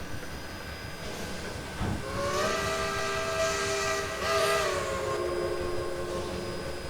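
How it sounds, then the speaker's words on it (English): A steam locomotive whistle in Trainz 2019 gives a sustained, tonal blast of about three seconds over a steady hiss. The locomotive is a Shay geared engine on a line with a Willamette geared locomotive, and no one speaks. "That's a cool sounding whistle too."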